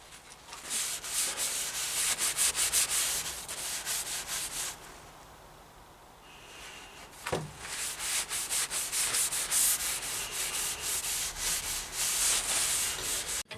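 Linseed oil being rubbed by hand into a wooden hatchet handle, steady scrubbing strokes in a quick rhythm, close and fairly loud, pausing briefly midway before resuming, with no talking.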